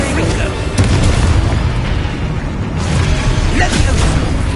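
Confringo spell explosion in the game Hogwarts Legacy, a loud booming blast under dense battle noise, with a voice shouting spell names over it.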